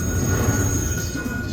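A steady rolling train rumble with faint squealing tones plays in a Railroad Riches slot machine game, loud and continuous for the whole short stretch.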